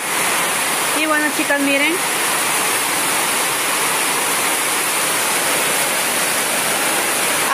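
Heavy rain pours down outside a home as water floods in, a loud constant rushing hiss throughout, with someone speaking briefly near the start.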